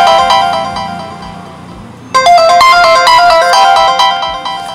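A phone rings loudly from a remote play-sound command sent through a Find My Device service. The looping tone is melodic and bright, and it swells louder after a brief softer start.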